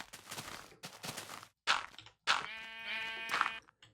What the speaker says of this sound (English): Well, speaking of sheep, let's count some sheep.